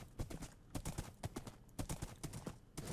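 Horse hooves clip-clop in steady quick rhythm while riding in Minecraft, crisp and close with no talking.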